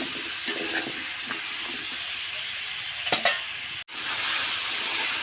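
Pumpkin with slit green chilies and turmeric sizzles steadily in a pan while a spatula stirs and scrapes, with a few sharper clinks and a brief dropout partway through.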